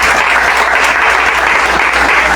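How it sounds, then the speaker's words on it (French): An audience claps for a library opening, a dense, loud, continuous round of applause filling the hall with no break. "toute l'assistance est priée d'applaudir à le Seigneur pour l'ouverture de"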